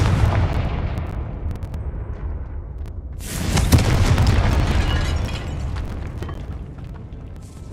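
A Confringo blasting-spell explosion in the video game Hogwarts Legacy, set in a tomb: a loud, heavy rumbling burst under a continuous low roar, then a long decaying crackle.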